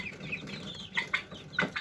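Faverolles and silkie cross hens give a few short, sharp clucks and squawks close by, spaced irregularly over quiet farmyard background.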